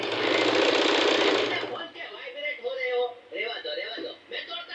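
A sewing machine runs loud and close for about a second and a half, stitching a garment seam at the waist side. It then stops and someone talks.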